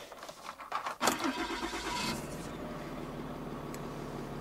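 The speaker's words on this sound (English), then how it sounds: "We'll just turn on the truck." A truck starting up: a brief rattle and crank, then the engine catches and settles into a steady close idle rumble.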